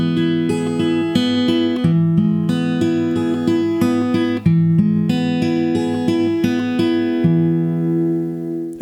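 Fingerstyle acoustic guitar with a capo plays a basic beginner arpeggio pattern, steady plucked notes rolling through chord shapes with sustained ringing strings, clear and close with no talking.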